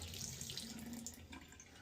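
Water rushes steadily from an opened ball shut-off valve on residential laundry plumbing as the system is drained, a continuous close splashing flow with no talking.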